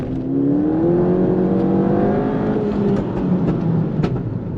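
A Ford Fiesta ST with a stage 2 tune at about 230 hp revs hard, its engine note climbing and then falling back, with sharp exhaust pops and crackles near the end, loud and close with no voices.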